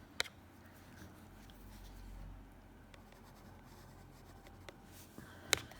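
A pencil sketches an eye on paper with faint, soft scratching strokes, punctuated by a few sharper taps and clicks, quiet and close.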